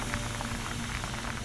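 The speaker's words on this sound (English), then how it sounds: "That's sizzling." Steady, unbroken sizzling hiss, like air rushing in or out of something, heard alone at moderate level as a sound effect in a radio drama of H. G. Wells's The War of the Worlds.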